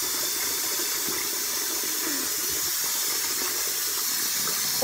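Water running steadily from a tap to wet a makeup eraser, a continuous close hiss and splash with no pauses and no talking.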